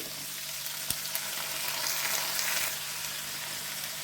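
Chopped onion, grated carrot, tomato pieces and green peas frying with curry leaves in a pan, a continuous moderate sizzle with light stirring, no one talking.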